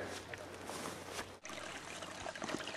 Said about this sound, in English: Little babbling brook coming down, back down the hill towards the edge of lot 1 here